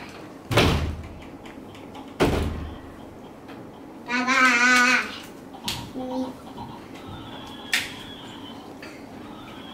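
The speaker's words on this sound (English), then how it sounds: "Close the door" A door at a resort room in Phatthalung, Thailand, slams shut twice in sharp, loud thuds, followed by a creaking slide and softer knocks, with a voice babbling in between.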